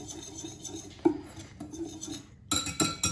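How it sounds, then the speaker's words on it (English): Batter ingredients for American pancakes being mixed in a bowl, with utensil clinks and scraping against the dish in an irregular run, louder clattering toward the end, close by with no talking. "And then mix it together."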